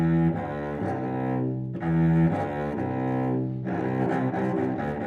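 A cello bowed on its lowest string plays deep, rich, sustained notes close up and loud, with a short break between bow strokes and no voices.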